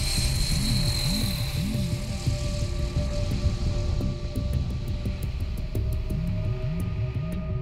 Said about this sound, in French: Ici, l'avion de transport qui atterrit manœuvre soute et feu allumé.